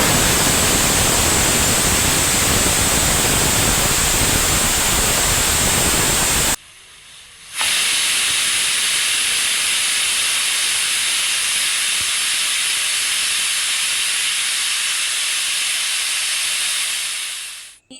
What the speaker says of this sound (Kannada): ಈಗ ಕುಕ್ಕರ್ 2 ಸೀಟಿ ಹೊಡೆದು ಪೂರ್ತಿ ತಣ್ಣಗಾಗ್ಯದ್ರಿ